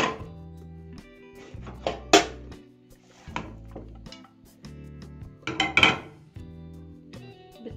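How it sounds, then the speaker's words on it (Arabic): Cut potatoes tipped into a pan after the liver is removed, with clattering of pan and utensil knocks, a few sharp clinks and scraping bursts in an otherwise quiet kitchen, no talk. "كده شلنا الكبدة، هنزل بالبطاطس"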